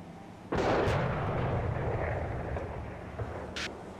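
A heavy blast of incoming shelling and artillery fire erupts suddenly, then a loud, rumbling roar lingers and slowly fades, with a brief sharp crack near the end.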